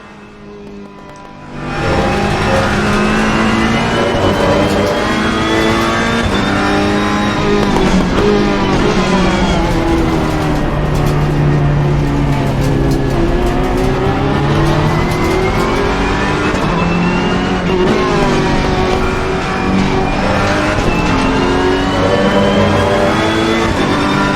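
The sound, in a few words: GT race car engine in a racing sim video game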